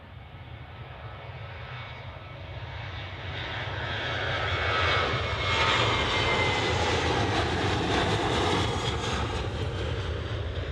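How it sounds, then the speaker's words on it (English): A Ryanair airliner departing Manchester Airport roars with jet engines, the broad rumble swelling louder as it passes and then holding steady at a moderate distance, with no voices over it. "Next departure is the Ryanair"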